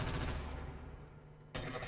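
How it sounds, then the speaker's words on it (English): Rapid automatic gunfire in the shooter game Half-Life: Opposing Force, a dense burst that cuts off, a brief lull, then another burst starting, loud and close with no talk. "I need to fire more shots."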